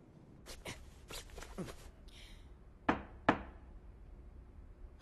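Two sharp knocks on a door, close and distinct, after some quiet shuffling and light movement noises, in a Japanese anime scene set in a mansion.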